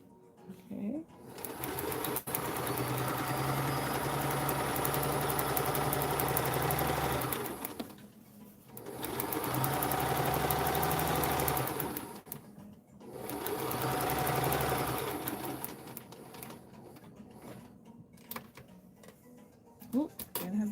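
A sewing machine stitches padding onto a dress form in three long runs of rapid, even mechanical whirring, separated by brief pauses with small clicks and handling noise.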